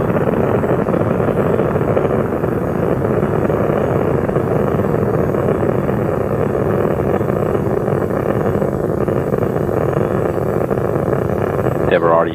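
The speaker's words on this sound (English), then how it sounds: "Endeavour's rolling on a course heading northeast from the Kennedy Space Center" Space Shuttle Endeavour rising from Complex 39A at Kennedy Space Center, a continuous broad rocket-engine roar that holds heavy and steady throughout, with a narrator's voice running over it.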